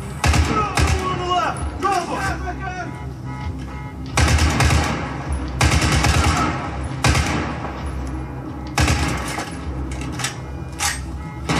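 Rifle gunfire in Battlefield 4 on PS4: bursts of rapid shots and thuds come in several separate clusters, with someone talking over and between them.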